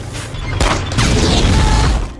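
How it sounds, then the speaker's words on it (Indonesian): An explosion bursts at a German tank in a war film, with a sharp blast followed by dense rumbling and crashing debris, loud and close, with no speech. "Sebuah ledakan terjadi saat Kapten Miller menembak tank Jerman."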